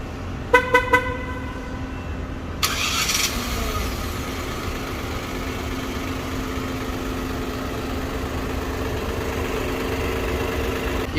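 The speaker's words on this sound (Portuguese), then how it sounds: "aqui basta apertar 2 vezes que nós temos sua partida remota" Fiat Pulse Impetus 1.0 Turbo started remotely with a double press of the key fob: a few quick horn chirps, then the engine catches and settles into a steady, moderately loud idle.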